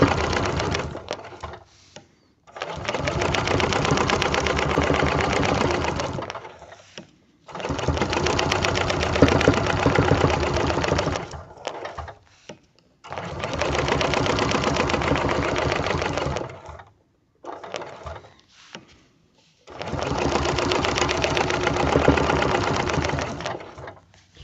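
A sewing machine stitches a log cabin quilt in four long steady runs of fast mechanical whirring, close and loud, separated by brief pauses.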